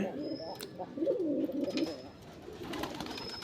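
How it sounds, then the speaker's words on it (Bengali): Pigeons kept in a loft coo softly nearby, low throaty rolling calls rising and falling among faint rustling and background clatter. "আপনারা ইতিমধ্যে আমার কবুতরগুলো দেখছেন"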